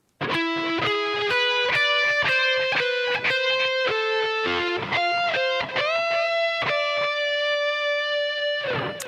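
Distorted electric guitar plays the next melodic phrase of a guitar solo: quick picked notes, slides and bends, loud and upfront and continuous, with nobody speaking.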